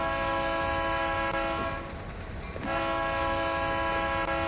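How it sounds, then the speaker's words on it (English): Two loud, sustained blasts of a Conrail-era horn on an ES44 locomotive, heard close up and separated by a brief pause. "we're just going to give it 2 blasts of the horn"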